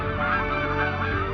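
White-naped cranes in the Korean DMZ give loud, harsh honking calls that blend into a dense, continuous clamor from a nearby flock, with no voices present.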